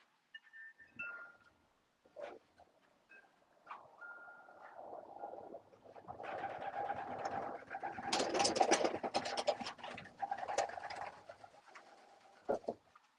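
Racing pigeons in a one-loft race loft coo softly at first, swelling into a dense, close chorus of overlapping coos and wing flutters before thinning out again.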